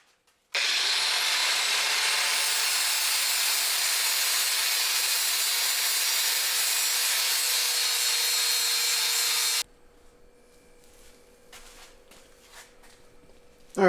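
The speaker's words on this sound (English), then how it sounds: "I'm going to notch that section out." An angle grinder cuts a notch into a UCF engine skid plate for a Jeep Wrangler LJ on a workbench. There is one loud, harsh, continuous grind of about nine seconds that stops abruptly, followed by faint clinks and handling noises.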